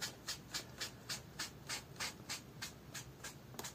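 About a dozen quick, evenly spaced scraping strokes as a layer of watercolour paint is scraped off paper, close and fairly quiet, with no talk.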